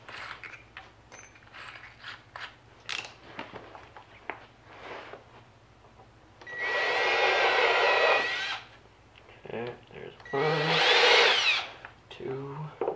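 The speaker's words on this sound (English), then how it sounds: "I will countersink both of the holes that I just drilled" A drill countersinks holes in the wooden board of a DIY toboggan kit: two distinct whirring bursts of a few seconds each, separated by clicks and handling noise, close and moderately loud.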